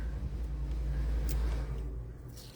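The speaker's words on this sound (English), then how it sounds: "I'm sorry if you hear my washing machine in the background." A steady low mechanical rumble hums in the background, like a washing machine running in another room, constant and moderately quiet with faint clicks.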